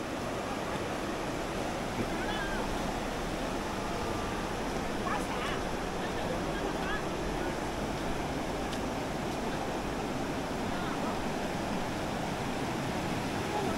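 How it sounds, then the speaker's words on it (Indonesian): A fast-flowing river in rural countryside near a traditional Hakka earthen roundhouse, heard as a constant broad rushing roar that holds steady throughout without voices. "Cepat ya sungainya."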